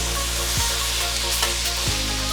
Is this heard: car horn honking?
no